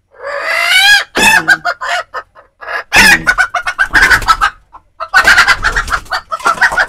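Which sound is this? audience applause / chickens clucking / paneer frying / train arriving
chickens clucking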